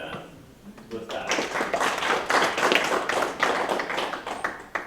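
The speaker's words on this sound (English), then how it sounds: "So a big applause for him just to start." A conference audience claps for a speaker, a short burst of dense applause from a modest crowd that builds quickly after a few scattered first claps and holds steady to the end.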